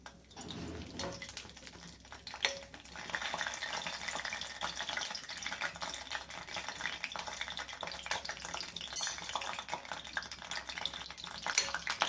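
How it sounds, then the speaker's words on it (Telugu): Green chillies fry in hot oil in a pan, a faint, steady sizzle and crackle that starts with a soft clatter and then keeps a continuous hiss. "దానికి ఇప్పుడు ప్యాన్లో ఆయిల్ వేసుకుని, ఆయిల్లో పచ్చిమిరపకాయలు,"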